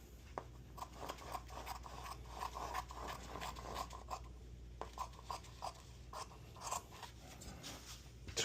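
Scissors snip through jacket fabric close by in a steady run of short, crisp cuts with soft scraping between strokes, fairly quiet and with no talking.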